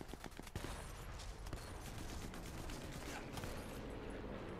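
Rapid gunfire from the video game Sniper Elite 4, a dense run of overlapping shots and bursts with no break, loud and steady across the whole stretch.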